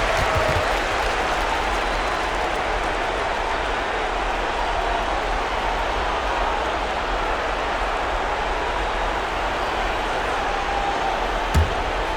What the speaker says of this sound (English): let's give some applause for your Los Angeles Dancers